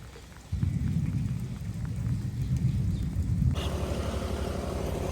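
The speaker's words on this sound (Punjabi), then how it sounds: "ਲੋ ਜੀ ਮੀਂਹ ਪੈ ਲਿਆ" Heavy rain pours down steadily and loudly, turning into a denser, harder downpour partway through, with a low rumble beneath.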